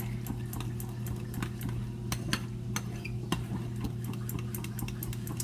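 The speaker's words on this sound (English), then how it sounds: "I put a good squirt of ketchup in mine. Stir it up real good." A spoon stirs a ketchup glaze mixture for meatloaf, giving light, irregular clinks and taps against the bowl over a steady low hum.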